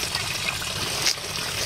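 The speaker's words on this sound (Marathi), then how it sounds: "आता इथं अजून पाणी गळतं" Irrigation water leaking through a broken bund in a farm field, a steady close trickling and gushing rush that continues unbroken with no voices.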